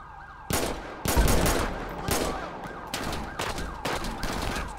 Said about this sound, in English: He's trying to shoot through the thing now.